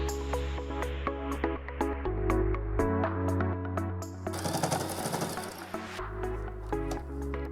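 A sewing machine runs a straight stitch along folded fabric ends, its rapid mechanical clatter close and steady with short pauses and changes in pace.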